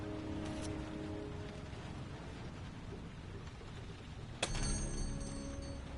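Steady rain falls in a night scene of the video game Heavy Rain, a faint even hiss with a sudden brighter burst near the end.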